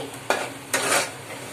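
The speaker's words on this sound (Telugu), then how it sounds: "పది నిమిషాల పాటు ఇలా కలుపుకుంటూనే ఉండాలి ఫ్రెండ్స్ చిన్న మంట పెట్టుకొని" Egg fry is stirred in a pan over a low flame, with two distinct scraping strokes over a soft, continuous sizzle, close and clear.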